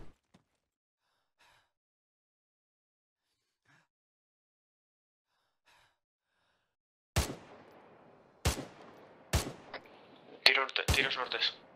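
Gunfire in ArmA III comes after a long quiet stretch with faint breathing: several loud isolated shots, then a denser burst of rapid fire at the end.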